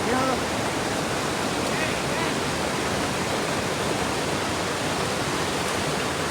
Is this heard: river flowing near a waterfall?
yes